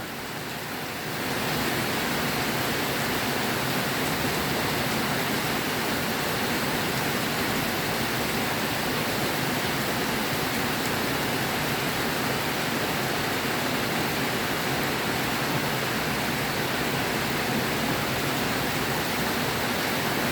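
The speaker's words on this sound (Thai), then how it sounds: "แต่ตกขนาดนี้ก็ชุ่มฉ่ำอยู่นะ" Heavy first-of-season rain pours down in a steady, dense wash of noise, loud and continuous throughout with no voices.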